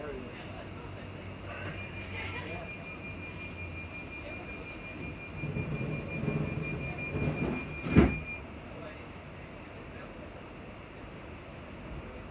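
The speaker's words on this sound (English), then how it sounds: "This train is for Helensburgh Central." Scottish passenger train bound for Helensburgh Central running near Uphall and Livingston North, a steady cabin rumble and hum with a faint tone, swelling mid-clip before a sharp clack, heard under announcements.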